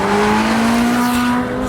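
Ferrari 458 Speciale's naturally aspirated V8 sings in a loud, sustained high-revving wail with a steady rising tone, close and alone without any talk.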